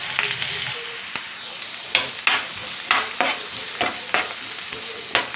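Onions and green chilli pieces fry in hot oil in a pan for egg curry, a loud bright sizzle broken by repeated scraping strokes of a spatula every half second or so, close and without talk.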